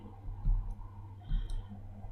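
Two faint, separate mouse clicks while working in Photoshop, with a quiet room hum underneath.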